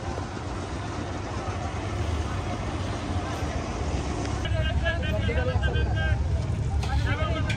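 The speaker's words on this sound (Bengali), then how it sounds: "ফেরি চলে এসেছে।" Ferry arriving at a dry-season haor crossing in Kishoreganj: a steady low engine drone under murmuring voices, with people talking near the end.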